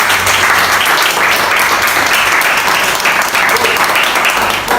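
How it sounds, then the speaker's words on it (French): A live audience at a sanitary pad product demonstration breaks into loud, dense applause, a sustained wash of many hands clapping, even and continuous for several seconds. "Est-ce qu'on peut acclamer pour ça?"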